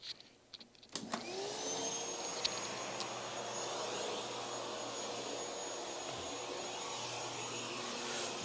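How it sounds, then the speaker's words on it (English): A vacuum cleaner sucks dust out of an Asus ROG Strix G15 Advantage gaming laptop. A few clicks and handling knocks come first, then the motor starts up into a loud, steady whine that runs on unbroken. "we're going to get to the part where we need the vacuum too. So it's going to be extra loud."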